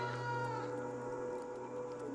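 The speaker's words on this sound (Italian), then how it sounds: "Miagolare." Cat meowing in the video game Stray, a single drawn-out, wavering meow at moderate volume with quiet background hum.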